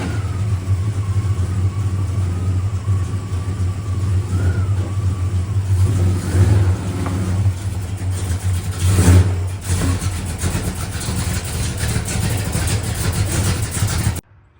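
A Hughes Whiplash Plymouth Cuda drag car rumbles loud and close as it is pulled in, with a deep steady idle broken by a few blips of revving before the engine cuts off at the end.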